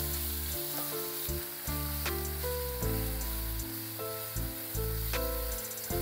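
A paste of ginger, chili and coriander sizzles and fries steadily in a hot pan while making matar nimona, a continuous close crackle with stirring scrapes and occasional sharper pops, with no voice over it.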